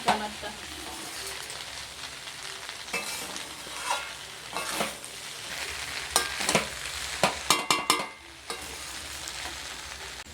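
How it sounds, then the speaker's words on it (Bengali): Pasta stirred and frying in a pan, with a steady sizzle under scraping spoon strokes and a cluster of sharper clinks and taps near the end; no talking. "এবার মিক্স করে নেব ভালোভাবে।"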